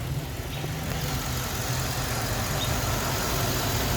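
A Chevrolet Tahoe SUV engine with a holed muffler idles with a steady, raspy low rumble and a hissy exhaust edge, constant throughout and close by.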